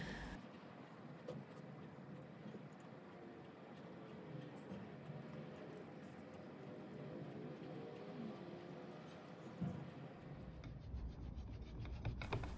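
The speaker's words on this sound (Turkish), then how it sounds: "bir kenarda rende ile dondurucuda beklettiğimiz hamurumuzu rendeleyerek ufak parçalar elde edelim" Frozen apple-cookie dough rubbed against a hand grater produces a steady, continuous rasping scrape, close and fairly quiet, with no talking.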